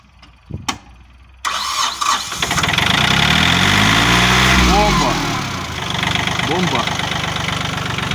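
After a few clicks and knocks, the engine of a Yanmar 301 tractor fitted with a new battery cranks and catches. The small diesel then settles into a steady, chugging idle with a rev change partway through.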